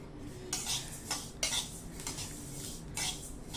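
Flax and sesame seeds roast in a pan while a metal spoon stirs them, giving several close, crisp scraping clinks at irregular intervals over a faint background.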